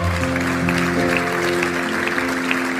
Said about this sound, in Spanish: Denle fuerte ese aplauso al Dios de gloria.